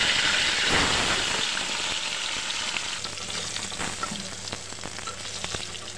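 Okra fries in a pan with onion and green chili, a strong crackling sizzle that gradually settles while faint stirring clicks and a low hum sound in the background.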